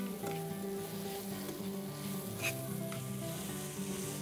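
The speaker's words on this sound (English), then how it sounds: "there really is nothing more fantastic than sauteed onions in a pan" Onions sautéing in a pan give a steady, close sizzle throughout, with faint tonal background sound underneath and no talking.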